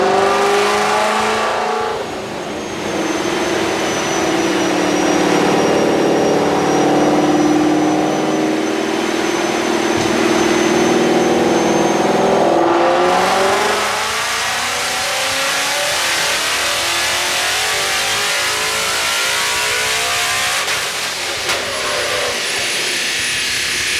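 A 2015 Mustang GT with a Procharger P1X supercharger, running E85, revs hard on a dyno, its engine note climbing through a long wide-open pull with a whining supercharger tone, then easing off, loud and close throughout.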